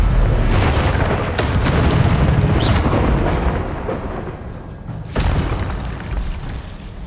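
In the game Hogwarts Legacy, the Confringo spell lands with a loud, deep, rumbling explosive blast, followed by crackling debris and a second heavy boom a few seconds later.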